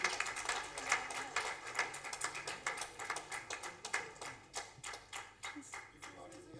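Audience applause greets a prize winner at an academic conference award announcement: a dense, steady patter of many clapping hands with a voice speaking over it.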